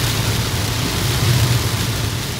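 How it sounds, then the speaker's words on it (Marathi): Heavy monsoon rain pours steadily at a fuel stop on the NH-66 Mumbai-Goa highway, a dense, even hiss filling the short stretch with no talking. "जोरदार मुसळधार पाऊस आलाय."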